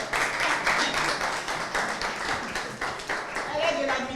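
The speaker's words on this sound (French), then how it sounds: "Voilà, avec des applaudissements." Audience applause at a community café gathering welcoming a woman to her seat, loud close clapping with distinct rhythmic hand strikes, voices faintly mixed in near the end.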